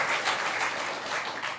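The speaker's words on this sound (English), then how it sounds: "Can we not do all this applause" Applause from a crowd at a county board of supervisors meeting, a dense, steady wash of clapping from many hands that goes on throughout, heard from a distance and a little muffled.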